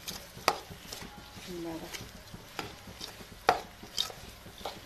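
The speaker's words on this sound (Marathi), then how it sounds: "तर आता बटाटा मस्त घेतलेला आहे मी कट करून" A potato cut finely on a board for khichdi, heard as a few sharp, separate knife taps at uneven intervals. Quiet room, with a brief spoken word.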